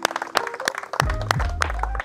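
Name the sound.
round of applause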